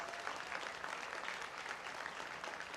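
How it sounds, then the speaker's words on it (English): Steady applause from a school audience in Hebbal honouring students recognised for their sporting achievements, a dense continuous clapping that fills the room at a moderate distance with no voices over it. "A good round of applause."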